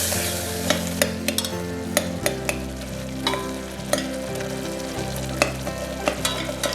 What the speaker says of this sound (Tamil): தனியாத்தூளும் சேர்த்துக்கிறோம். எல்லாத்தையும் மிக்ஸ் பண்ணி வச்சுங்க.